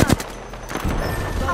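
Gunfire in Apex Legends, sharp loud shots at the start, then scattered bursts over game noise, with a voice speaking partly over the shooting.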